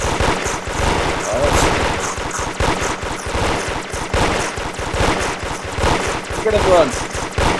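Towers in the Roblox game Toilet Tower Defense fire a loud, dense rattle of rapid machine-gun-style shots that runs continuously under excited speech.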